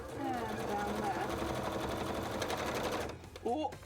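A domestic sewing machine stitching a gauntlet runs in a steady, fast mechanical chatter, misbehaving and sounding rough, before stopping abruptly near the end, heard close up and alone.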